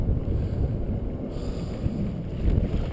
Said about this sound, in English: It's getting a little bit breezy.